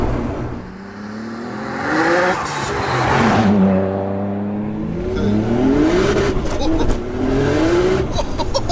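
Nissan 200SX with a swapped straight-six GTR engine and 530 bhp accelerating hard, engine note climbing repeatedly through gears with turbo whoosh between shifts, loud and close, people talking inside the car.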